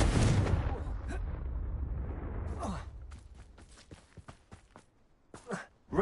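Confringo, a blasting spell in the game Hogwarts Legacy, goes off with a loud booming burst that rumbles and fades over a few seconds, followed by scattered softer thuds and a sharp hit near the end.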